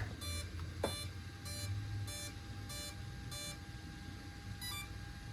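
A series of short, high electronic beeps from an Arrma Felony RC car's Spektrum electronic speed controller during calibration, spaced about evenly, followed after a pause by one more beep, over a faint low hum.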